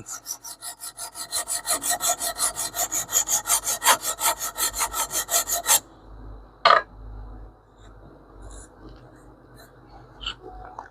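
Knife blade honed on a KME sharpening system, steady rhythmic scraping strokes about two per second for several seconds, close and crisp, then stopping, followed by a sharp tap and quiet handling.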